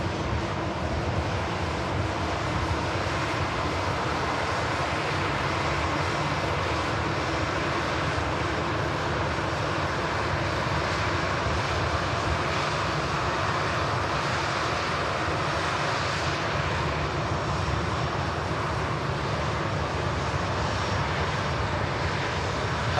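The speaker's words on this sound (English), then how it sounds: "TUI Dreamliner lined up on runway 23 left, and an air tanker A330 is approaching the runway as well" Airliner jet engines on the runway at Manchester Airport, with a TUI Dreamliner lined up and an A330 tanker approaching. A continuous, even engine roar carries on without pause, and there is no talk.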